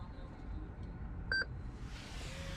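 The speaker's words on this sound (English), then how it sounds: "you wait for it to keep beeping" A 2016 Lexus Ghost 2 immobiliser during PIN entry gives a couple of faint short beeps, then one louder, sustained electronic tone over a low background hum.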